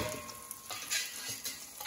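An egg sizzles and crackles while frying in a pan, with faint clicks and small bursts of spattering over a steady hiss, close by and without talk.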